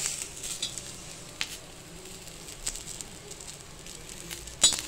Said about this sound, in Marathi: आता आपण हे खोबरं सुद्धा भाजून घेणार आहे त्या कांद्यामध्ये